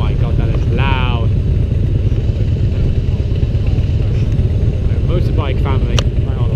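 Loud motorcycles passing on a scenic road, a continuous heavy engine roar that dominates the whole stretch with brief higher whines from passing bikes.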